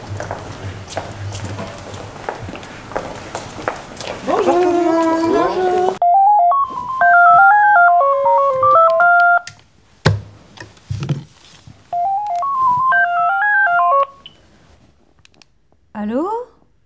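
A phone ring melody plays as repeated stepped electronic tones in short bursts separated by pauses, clear and close, after noisy background activity, with a few voices.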